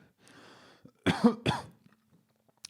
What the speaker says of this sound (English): I didn't mean to cough into the mic.